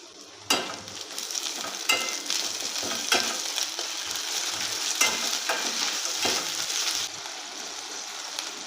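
A spoonful of ginger paste frying in a pan for a Bengali pumpkin, potato and Malabar spinach dish, a soft steady sizzle broken by a few scraping stirs, close and fairly quiet, with no talking.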